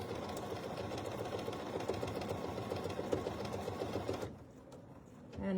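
A sewing machine stitches decorative patterns on a vintage hankie crazy quilt, a rapid steady mechanical chatter up close that stops abruptly near the end, followed by brief quiet.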